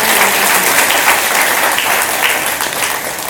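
Audience applause at a Mahaveer Jayanthi program, dense and steady clapping for children who have just performed, loud and close, with no talking over it.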